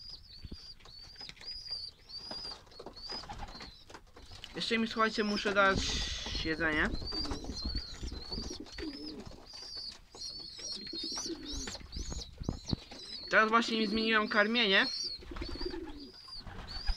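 Pigeons in a pigeon loft coo repeatedly at close range, with bursts of wing flapping and a persistent high chirping throughout, while someone talks over them.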